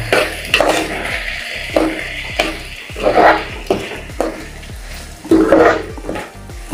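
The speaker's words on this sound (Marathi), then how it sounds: "तांदूळ आणि डाळी टाकून घ्यायचे आणि व्यवस्थित मिक्स करून घ्यायचं" Rice and lentils being stirred in a pot over a low flame for khichdi, with repeated scraping and clattering of a spoon against the pot, loud and close, alongside a faint sizzle.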